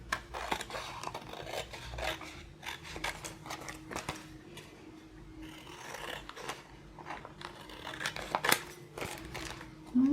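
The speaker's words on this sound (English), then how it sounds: "let's cut around and we will see where we can cut it open." Scissors snip repeatedly while cutting around a paper image for a happy mail folio. The crisp cuts and paper rustling are close and irregular, with occasional short pauses.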